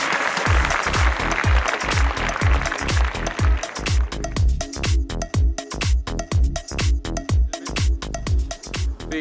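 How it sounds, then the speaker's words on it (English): Applause at an awards ceremony for facade and fenestration excellence, a dense burst of clapping in the first half giving way to a steady, thumping music beat that carries on loudly to the end. "let's welcome with a warm round of applause"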